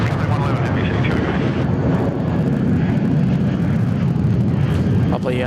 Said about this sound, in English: Lovely Jetstar 320 getting underway